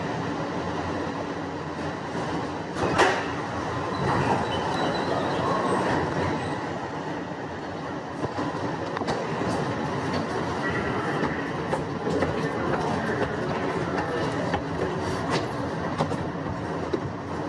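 Riding the SFO AirTram, the automated airport train at San Francisco International, gives a steady, loud interior rumble of rolling wheels and motor hum, with occasional rattles and clicks, continuous throughout.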